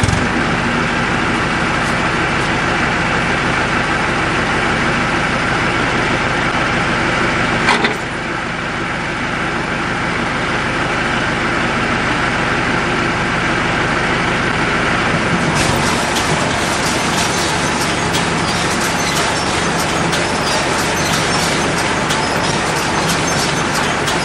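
A New Holland 660 round baler runs under tractor power, giving a steady loud mechanical drone with a brief dip midway and a harsher rattling texture in the later part, with no voices.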